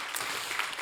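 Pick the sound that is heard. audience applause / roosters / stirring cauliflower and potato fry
audience applause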